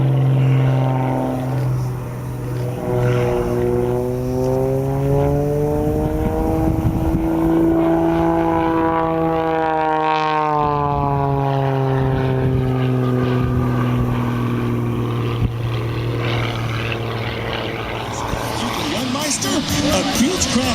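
A propeller-driven aerobatic airplane performs a knife edge spin at an air show, its loud, steady engine drone rising and falling in pitch as it passes, with an announcer talking over it.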